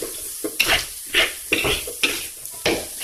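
A spatula scrapes and knocks against a pan as fried rice with village eggs is stirred and tossed. The strokes come in a quick, regular rhythm, five or six close metallic scrapes with short gaps between them.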